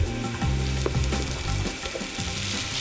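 Par-cooked risotto with sautéed onions, wine and stock cooking in a pan, giving a constant close sizzle and bubbling with intermittent stirring strokes throughout.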